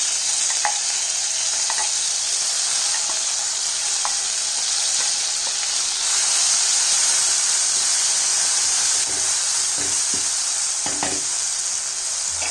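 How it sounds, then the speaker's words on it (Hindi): Ginger garlic paste sizzles in hot oil with crackled mustard seeds for a mango pickle, a loud continuous frying hiss close by with occasional small pops and stirring clicks. "अब जैसे ही राई क्रैकल हो जाता है, इसमें डालेंगे ये जिंजर गार्लिक पेस्ट।"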